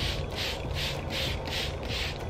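A hand spray bottle squirts organic bug spray onto plant tops against mealybugs, giving six evenly spaced hissing spritzes about 0.4 seconds apart, close and soft.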